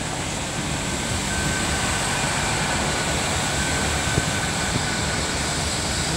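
Class 800 train, unit 800311 on service 1A16, arriving at Swindon station in Wiltshire, heard as a steady, loud broadband rumble and hum of the train passing close by, with no talk.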